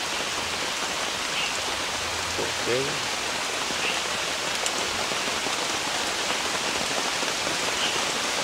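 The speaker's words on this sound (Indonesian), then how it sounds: "karena di luar hujan, kita masaknya di dalam teman-teman" Heavy rain pours steadily outside a campsite beside a river, a dense, constant hiss of falling water, with a brief spoken word near the start.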